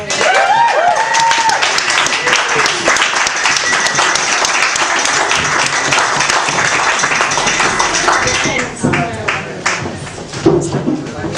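Audience at a comedy show applauding loudly and continuously, a dense wash of clapping that thins and tapers near the end.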